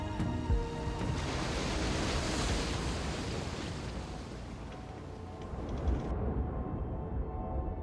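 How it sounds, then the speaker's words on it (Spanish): Storm wind and surf from the open sea roar continuously, a dense, loud wash of crashing waves and gusting wind with slight swells in intensity, the high hiss cutting off abruptly near the end. "Primero una tormenta, luego rayos, incrementa el viento y las olas,"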